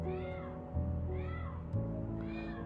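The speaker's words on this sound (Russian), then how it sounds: "у меня орет кошка, котенок" A kitten indoors meows loudly three times, each cry drawn out and wavering, spaced about a second apart and heard alone.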